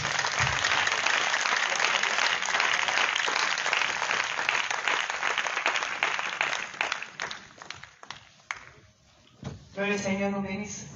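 A church congregation claps and cheers in praise of the Lord Jesus, a dense, sustained wash of applause that fades over several seconds before a voice speaks over the end.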